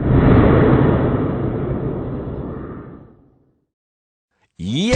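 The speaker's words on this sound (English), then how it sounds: "Shock tube firing." An explosive air blast from a shock tube slams into GAF Advanced Protection Timberline roof shingles, a loud broad roar that rumbles on for about three seconds before fading to silence, followed by a brief sweeping sound at the end.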